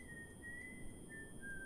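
Someone whistles the tune The Old Gray Mare, a thin, faint melody with a steady high tone beneath it, brief and quiet.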